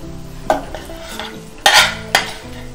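Pre-cooked, dried mushrooms go into a masala paste in a pan for a mushroom roast and get stirred, with three distinct scraping spoon strokes over a low background sizzle.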